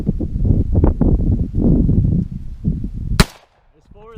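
A single sharp handgun shot cracks out near the end during a torture test of a budget red dot sight, preceded by someone talking and rustling outdoors, then a brief echoing tail.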